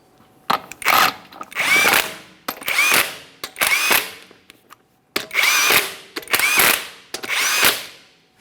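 Power tool driving lug nuts onto a 2017-2023 GMC Acadia front wheel, seven close, loud bursts of whirring and rattling, each about half a second to a second long, separated by short pauses, no speech.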